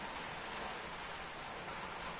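A dense, even hiss of heavy rain falls steadily at a fishing spot, a constant wash of sound with no other noises.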